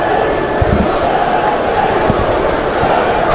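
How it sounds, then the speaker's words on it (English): Low steady murmur of a fairly quiet football crowd at a Newcastle United match against AFC Wimbledon in the evening, a continuous broad hum with a few faint thumps and no clear cheering. "Crowd fairly quiet as well this evening, looking for goals to get them going."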